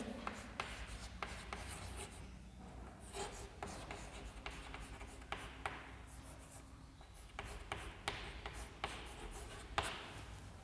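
A marker or chalk scratches and taps across a classroom board as notes are written out, faint, irregular strokes with short pauses between words, heard alone without talk.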